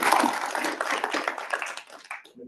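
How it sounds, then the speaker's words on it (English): Audience applause for candidates at a community meeting evening, dense continuous clapping from a crowd in a room, fading out toward the end. "Can you please give our candidates a round of applause?"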